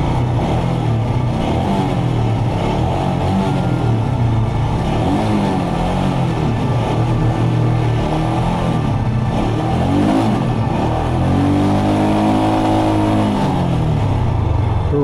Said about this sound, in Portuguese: Para vocês ouvirem o barulho da máquina.